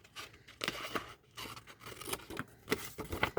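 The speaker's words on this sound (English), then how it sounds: "I am just going to do it with my scissors real quick." Quick snipping of scissors through paper, several short crisp cuts in an irregular rhythm, close up with no talking.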